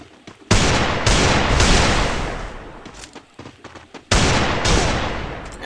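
Gunfire in a shooter video game, heard as loud, close bursts of rapid shots, two long sustained volleys separated by a gap with scattered single shots.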